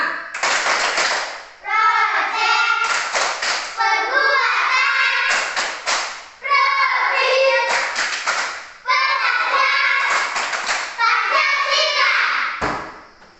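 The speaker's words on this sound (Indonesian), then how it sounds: "Kita tepuk P5 satu kali. Tepuk P5." A primary school class in Indonesia performs a patterned group clap, the P5 clap, loud rhythmic bursts of hands alternating with children's chanting voices, ending in a sharp final clap.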